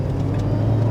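A cold 1970 Ford Mustang Mach 1 pulling out, a steady, loud low engine rumble from close by with a constant droning hum.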